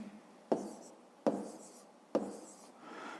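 Three crisp pen strokes on paper mark a hand writing units after a perimeter calculation in a fifth-grade maths exercise, each a sharp tap followed by a short scratch, close and fairly quiet with no talking.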